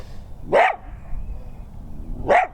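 Coyotes calling in the open outdoors, two short yipping, wavering bark-howls about two seconds apart, moderately near over a low rumbling background.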